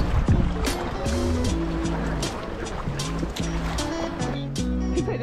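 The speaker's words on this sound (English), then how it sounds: "I'll start paddling over here." A kayak is paddled on the water at Kailua Beach, Oahu, Hawaii, with splashing paddle strokes and lapping water close by while people talk over it throughout.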